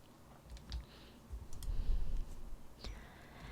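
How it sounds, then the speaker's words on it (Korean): Computer mouse clicking while an online civil-document application is filled in on the Government24 website: a few scattered, light clicks over low room noise, with no one talking during it. "출력 찾으셔서 클릭."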